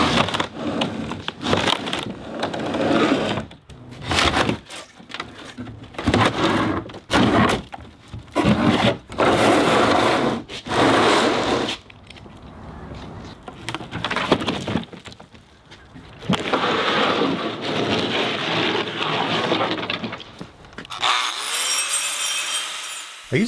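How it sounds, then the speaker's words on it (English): An angle grinder with a diamond wheel grinds the corners of a green concrete retaining wall. Loud, harsh bursts start and stop repeatedly, and the motor winds down into a fading whine at the end. "I used a diamond grinding wheel on the angle grinder to clean up the corners that I couldn't get to with the corner trowel"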